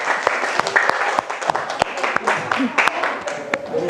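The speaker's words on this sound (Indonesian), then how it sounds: "kita beri aplaus untuk kelompok 1" Applause from a classroom audience of students for the first discussion group after its presentation, a burst of many hands clapping densely and steadily throughout, fairly close, with faint voices mixed in.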